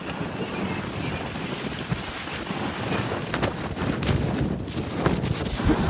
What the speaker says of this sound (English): it's like 35 mile an hour winds.